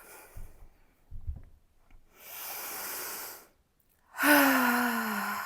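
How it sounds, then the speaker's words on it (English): Slow, deliberate exhalations during a rest in a Japanese yoga therapy class: a soft breathy sigh, then a longer airy outbreath and a final louder whooshing exhale that trails off, heard alone without talk. "It's really the best part of class where we just releasing out through the breath."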